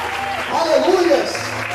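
A church congregation claps together in a short burst of applause that swells and fades, with voices mixed in beneath it.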